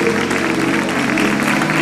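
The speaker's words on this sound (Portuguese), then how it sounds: "Vamos aplaudir o autor dessa canção." Audience applause at a Christian worship performance during a tech expo, a steady dense wash of clapping with a sustained musical tone running underneath, even and continuous throughout.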